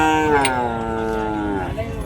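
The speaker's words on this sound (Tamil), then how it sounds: "இது வேறு காளைங்க" A bull at the Kundarapalli cattle market gives a long, drawn-out lowing call lasting about two seconds, loud and close, over a steady murmur of market noise.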